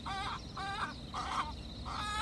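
Native hens kept in Dubai cluck in a repeated series of four short, rhythmic calls, fairly close over a low background rumble.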